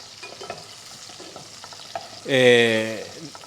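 Peppers sizzling and frying in a pan, a steady crackling hiss with occasional stirring scrapes, briefly overlapped near the end by a short voice.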